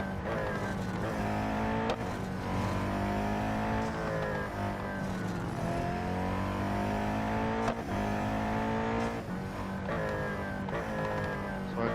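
Race car lapping a track in the mobile game Real Racing 3, its engine droning steadily and loudly throughout, with shifting pitch as it accelerates and eases off, with no talking.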